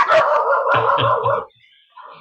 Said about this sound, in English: your dog has an opinion.